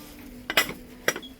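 Dishes and bowls clink together in a TK Maxx store at Wembley Central, giving two sharp ceramic knocks, each followed by a short rattle, near and clear against a quiet shop murmur.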